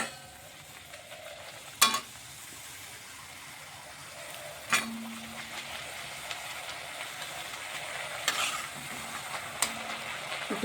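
Papad crisps dropped into deep oil in a pan, with a constant close sizzle and a few sharp bursts and metal clanks as each piece goes in.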